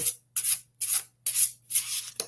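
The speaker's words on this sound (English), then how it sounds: "the paper, that soft shuffle, it's not sticking" Emerald Papyrus tarot cards with paper stock being shuffled close up: five soft, rubbing bursts in quick rhythm separated by brief silences over a low steady hum.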